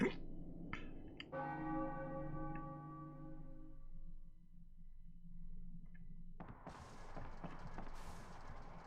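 A bell strikes in the Final Fantasy IX video game, one resonant toll ringing out and slowly decaying, followed later by bright, busy game sounds and footsteps.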